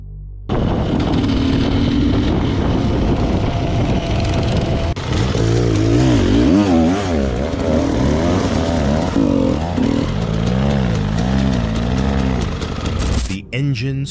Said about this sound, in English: The engine screamed to life, echoing like an untamed creature.